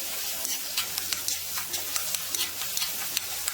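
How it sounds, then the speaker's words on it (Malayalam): Ginger garlic paste sizzles in a pan with onions, soft hissing under a series of quick utensil taps and scrapes as it is stirred, close and moderate in level. "അതും കൂടി ഇട്ട് ഇളക്കി കൊടുക്കാം."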